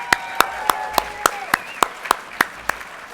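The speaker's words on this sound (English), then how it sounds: "One more round of applause" A few people clap in an even, regular rhythm, about ten distinct claps spaced evenly, at a keynote speech event with a Rotary audience; the claps are loud and close over a faint background hum.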